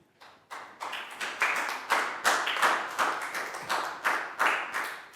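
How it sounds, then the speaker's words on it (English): Classroom applause from a Year 4 group of children, steady clapping in repeated bursts that swell and fade across the whole stretch, fairly close and lively, with no talking over it. "And big round of applause for everyone"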